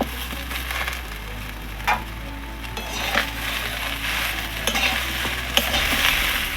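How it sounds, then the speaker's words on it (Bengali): Malabar spinach greens are stirred with fried rui fish in a sizzling pan, giving a steady hiss of frying under repeated scraping and tossing strokes, close and moderately loud. "মাছগুলো ভাজা হয়ে গেছে, এর মধ্যে এবার শাকটা দিয়ে একটু নেড়ে চেড়ে নেব।"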